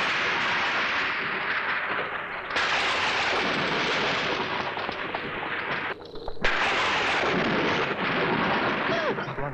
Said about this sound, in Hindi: लगता है भयंकर तूफान आने वाला है।